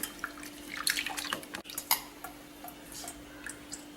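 Aloe vera pieces are rinsed in a bowl of water, with soft sloshing, drips and a few light knocks against the container.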